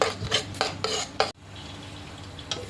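Pearl millet khichdi, soft and creamy, gets stirred in a pot with a spoon: four quick scraping strokes in a row, then a pause and one last faint scrape, with no talking.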